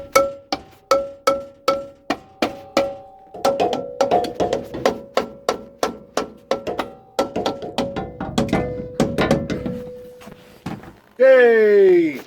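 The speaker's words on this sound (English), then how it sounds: "I used a bigger hammer, and it's come off" Repeated metallic hammer blows ring out on a seized brake drum of a Land Rover Series IIa, a steady series of loud clanging strikes that grows quicker and denser, ending with a sliding scrape.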